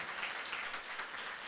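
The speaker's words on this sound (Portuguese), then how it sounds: "Vamos aplaudir o Senhor pela vida de Gesiel" A church congregation at a Sunday family service applauds, giving steady, fairly quiet clapping from many hands that continues without a break.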